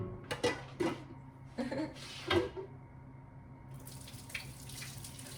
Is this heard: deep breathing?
no